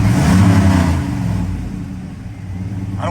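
A Phoenix car engine that would not start earlier revs up loudly and close by, rising then easing back to a rough idle.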